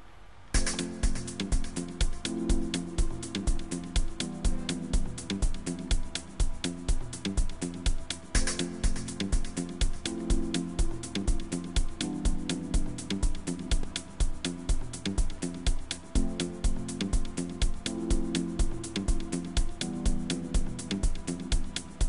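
A beat made in FL Studio, with bass and piano over a loud, steady drum loop, repeats its pattern for over twenty seconds without any talking.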